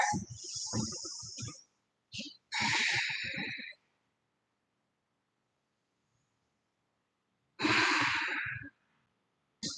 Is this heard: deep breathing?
yes